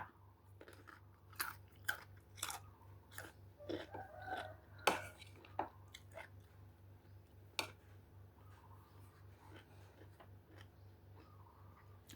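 Fresh, crisp, sweet long-bean shoots dipped in fermented fish chili paste are chewed close by, giving a run of sharp crunchy bites that fade to a quiet hum over the second half.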